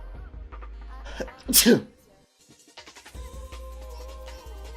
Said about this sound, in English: Sneeze.